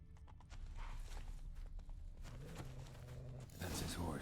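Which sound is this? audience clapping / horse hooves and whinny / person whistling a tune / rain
horse hooves and whinny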